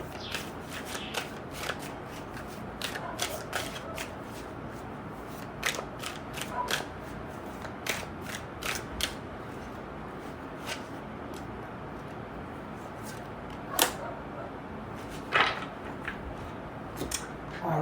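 A deck of tarot cards being shuffled by hand, with repeated crisp riffling flicks and soft slides in a steady rhythm, close and fairly quiet, with no voice.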